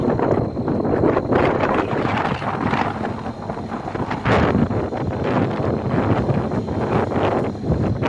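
Strong wind buffets the microphone at Vivekananda Rock, a steady loud roar with gusty surges and rustling throughout, no voices heard.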